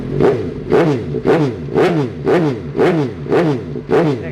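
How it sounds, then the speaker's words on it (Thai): A 2018 Suzuki GSX-S750 motorcycle with a large titanium slip-on exhaust revs repeatedly, about eight sharp, loud throttle blips in an even rhythm, each dropping back quickly, close up with no talking. "เดี๋ยวมาฟังเสียงท่อกัน"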